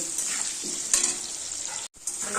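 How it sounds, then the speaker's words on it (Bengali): Steady frying sizzle of potatoes in hot oil, with brief stirring scrapes and a short gap near the end; no voices. "এবার আলুটাকে হালকা লাল লাল করে ভেজে নেব"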